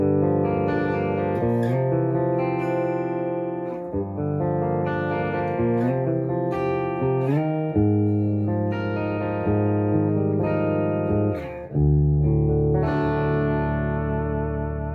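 A Schecter E-1 FR S Special Edition electric guitar plays on its bridge pickup with a clean tone, tuned to D standard, ringing chords and single notes with brief gaps between phrases, with no talking.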